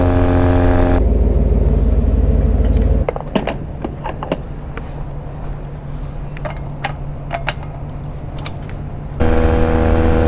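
A Honda Rebel 250 motorcycle cruises on a highway, its engine drone loud and continuous under heavy wind rush, easing off in the middle before the steady roar returns near the end.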